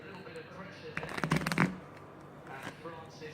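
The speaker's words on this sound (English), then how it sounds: "we're going to give this deck one more shuffle." A deck of playing cards is riffle-shuffled in a quick burst of rapid fluttering clicks, near and crisp, followed by a shorter ripple, with voices talking softly around it.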